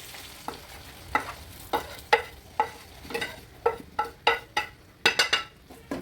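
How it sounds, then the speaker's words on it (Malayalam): Small onions fry in lightly heated oil on a low flame for a tuna head curry, with a soft sizzle under a rhythmic series of sharp spoon clinks and scrapes against the pan. "നമ്മൾ എണ്ണ ചെറുതായിട്ട് ചൂടായിട്ടുണ്ടേ ഒരു കുറച്ച് കൊച്ചുള്ളി ആ ലോ ഫ്ലെയിൽ വെക്കുക"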